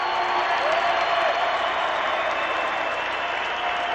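Steady, dense applause and cheering from a vocal Russian crowd at a futsal World Cup match in Guatemala fills the arena, loud and continuous from start to finish.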